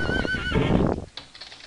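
A cartoonish horse in the video game Clop gives a loud, close whinny that rises and wavers, then a couple of faint clops follow.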